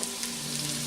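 Onions for Cantonese chow mein land in a hot wok and fry with a dense, steady sizzle, loud and close, heard alone.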